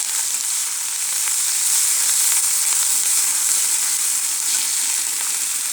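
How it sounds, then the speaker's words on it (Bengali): Spice paste of chilli, cinnamon, clove, cardamom, cumin and coriander sautéing with other ingredients in a frying pan for a tilapia dish, a loud, dense, continuous sizzle with faint stirring underneath. "সব কিছু দিয়ে আমি এখন ভালো করে কষিয়ে নেব।"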